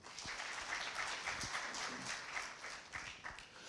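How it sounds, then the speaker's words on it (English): Conference audience at a Pan-African meeting on illicit financial flows and taxation applauds, a dense, continuous patter of many hands clapping at moderate distance, steady throughout with no pause. "Round of applause to him."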